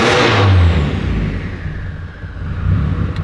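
A Mitsubishi Evo engine fitted with rolling anti-lag, revving loud and close with a dense, rough roar that surges, eases off briefly and swells again.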